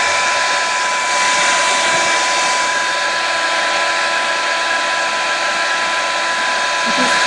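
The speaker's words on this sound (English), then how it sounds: "I'm just trying to show you where he's pointing the hair dryer." A hair dryer blows a steady, loud whooshing hiss with a constant whine, held without a break at close range while melting crayons for melted crayon art.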